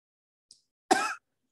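A single short cough from an adult webinar presenter, a brief close burst after a faint click, alone with no talk around it.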